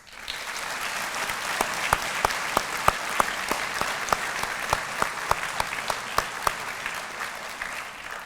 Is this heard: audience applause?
yes